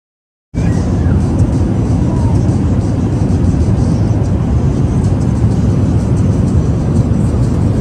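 Steady, loud broadband roar of an airliner cabin during a 16-hour flight from India to the USA, a constant engine and air hum filling the whole stretch with no pauses.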